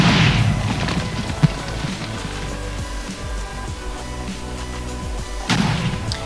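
An automatic TNT cannon in Minecraft fires repeated booming explosions at a steady pace, muffled and mid-distance, with a sharp crack partway through and rumbling between blasts.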